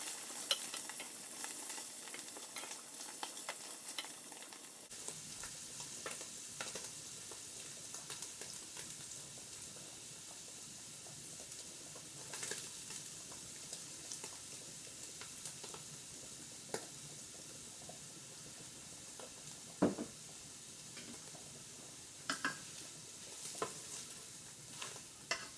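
Shepherd's pie meat filling cooking in a pan, a faint continuous sizzle with scattered stirring taps and scrapes over a long stretch, no voices.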